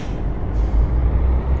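A Mercedes Actros heavy-chassis truck in Euro Truck Simulator 2 gives a deep, steady engine rumble with strong bass, loud and continuous, with a brief airy hiss rising partway through.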